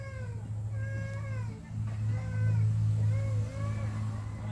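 A cat meows several times in short, rising and falling calls, close and fairly clear, over a steady low hum and some background voices.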